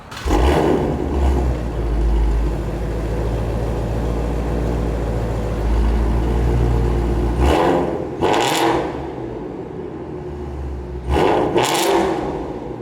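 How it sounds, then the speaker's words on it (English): A 2020 Ford Shelby Mustang GT350R engine runs loud and close, holding a high rasping rev before dropping sharply, then blipping up in two short bursts near the end. "what makes this engine particularly interesting is how it delivers its power and its sound"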